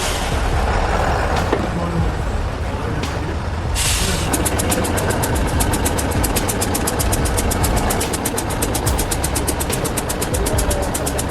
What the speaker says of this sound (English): the roar of its engine as it tries to pull the load beyond its limits